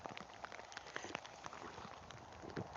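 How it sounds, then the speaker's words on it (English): Heavy rain in Alaska drums steadily and close on a surface, a dense continuous patter of drops with no voices. "this is the heaviest rain I've had since I've been on this trip."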